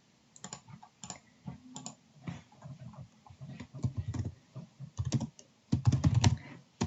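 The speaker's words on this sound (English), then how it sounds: "when I'm typing something out on the computer" Typing on a computer keyboard, quiet and close: irregular bursts of light key clicks and taps with short pauses between words, no voices.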